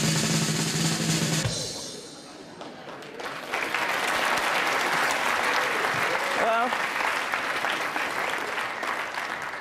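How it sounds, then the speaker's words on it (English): Audience clapping at a Royal Institution Christmas Lecture rises after a brief spoken moment, building into dense, sustained applause with crowd murmur and a few shouts mixed in. "I know, you're clapping"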